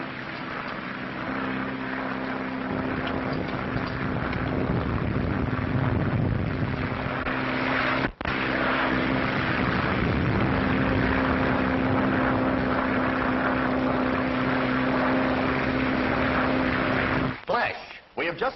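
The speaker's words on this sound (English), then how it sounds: "Dick Bennett, who is piloting his plane through terrific storms across the Atlantic Ocean." A propeller airplane drones steadily through storms over the Atlantic Ocean in a 1930s radio drama, a continuous engine hum under a voice, briefly cut off once and fading near the end.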